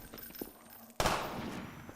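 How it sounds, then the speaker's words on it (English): A sudden loud crack of sniper gunfire in Half-Life 2 breaks over faint background sound, followed by a roaring, echoing tail that lingers and slowly fades. "We can't get through here while that sniper's covering the street."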